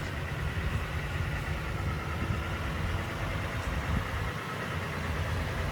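A 2021 Toyota Sequoia's 5.7 liter naturally aspirated V8 engine idles with a steady low rumble, constant and close, with no voices.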